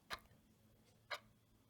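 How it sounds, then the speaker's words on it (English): Two sharp clock ticks about a second apart, close and crisp against a quiet hum-filled room, with nothing else heard. "Focus on the sound of the clock."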